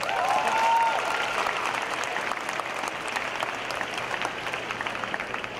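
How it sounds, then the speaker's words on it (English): Sustained applause fills a hall at a 2018 fall university convocation, many hands clapping in an even, continuous roar, with a brief faint whistle near the start. "Give them another round of applause."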